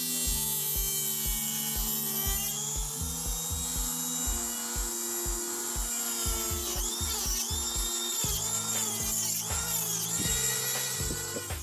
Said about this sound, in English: I'm going to use the Dremel to open the arch